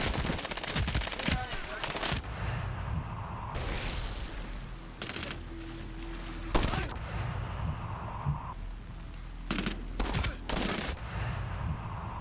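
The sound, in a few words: gunfire from 870 shotguns and PKP machine guns in a video game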